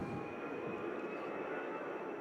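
A Lufthansa jet departs Manchester Airport for Munich, its engines roaring loud and steady with a high whine across the short stretch.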